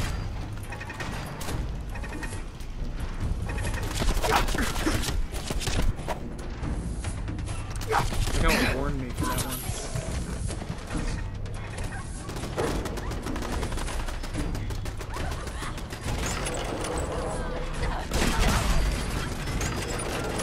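Rapid, dense Fallout 4 gunfire rattles on almost without a break, loud and close, with mechanical clanks and crashes mixed into the barrage.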